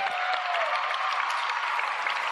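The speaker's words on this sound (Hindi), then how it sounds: "वो आपकी तालियों में पता लगेगा." Audience applause at a Hum Awards ceremony after a live singing performance, a steady wash of many hands clapping, fairly distant and alone, with no voices standing out.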